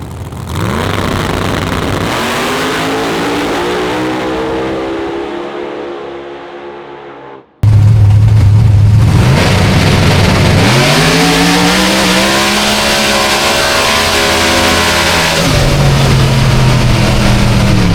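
A Cuda drag racing car launches hard off the trans brake, its engine roaring loud and close, cutting out briefly before surging back into a sustained, climbing high-revving howl down the strip.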